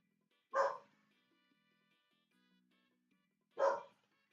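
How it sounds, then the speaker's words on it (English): A dog barks twice, about three seconds apart, short sharp single barks against an otherwise quiet room. "Sorry for the dog noises."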